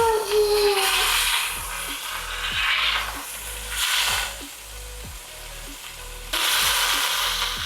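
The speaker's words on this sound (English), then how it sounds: "I'm going to just sear whatever I can." Beef sears in a pot for pot roast, a steady close sizzle and crackle of fat that swells and fades in waves, with soft clanks of a utensil stirring against the pot.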